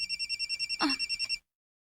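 A telephone rings in rapid repeated electronic trills, clear and close, stopping abruptly after about a second and a half.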